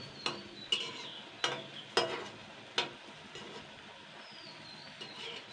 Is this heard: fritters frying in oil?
yes